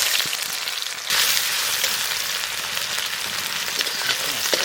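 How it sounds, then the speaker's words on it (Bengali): Sliced onions frying in hot mustard oil with whole cumin seeds, a loud steady sizzle throughout that swells slightly after a second and continues without talk. "পেঁয়াজটা সুন্দর লাল লাল ভাজা হয়ে গেছে"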